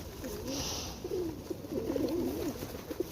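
Hungry pigeons coo softly in low, repeated phrases while pecking at seeds during feeding time, with faint scuffling and a brief hiss of movement in the background.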